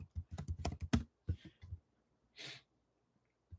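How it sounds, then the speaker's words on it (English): Rapid keystrokes on a computer keyboard as a password is entered, a quick close burst of clicks followed by a few spaced taps and a breathy sound in a quiet room. "I type my password in."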